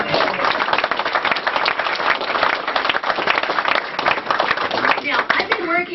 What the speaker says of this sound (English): here's where we need applause